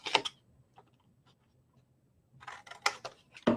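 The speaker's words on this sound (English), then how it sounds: "cut up this rectangle, and then we don't need this bottom flap here, so we're going to cut that off" Scissors snipping a paper rectangle for a frosted floral ribbon storage box, a few crisp close cuts at the start and a cluster near the end, separated by near silence with faint handling.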